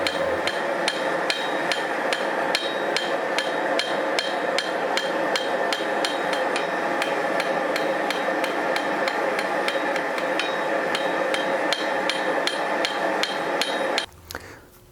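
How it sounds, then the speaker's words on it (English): A hammer forges 1/4 inch (6 mm) solid square steel stock flat, ringing in a fast, relentless rhythm of bright metallic blows on the anvil for about fourteen seconds before stopping abruptly; loud and close, no voices. "I'm going to make my own using a 1/4 by 1/4 solid square, which is 6 millimeters by 6 millimeters, and I'm going to forge them flat."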